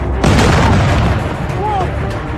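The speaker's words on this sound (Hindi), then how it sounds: "धमाके हुए" A loud, deep explosion booms in a wartime blast, then gives way to a heavy rumbling roar that stays strong for a couple of seconds.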